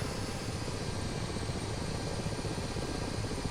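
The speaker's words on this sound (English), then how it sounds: "a helicopter that I am very confident in is the Black Shark" A Black Shark attack helicopter flies in a flight simulator, its rotor and engine noise a steady, loud, dense roar that fills the whole stretch without a break or any voice.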